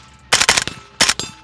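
Bulgarian Red Star BSR47 rifle fired at steel targets: two close, sharp bursts of quick shots about half a second apart, each with a short ringing tail, loud and without speech.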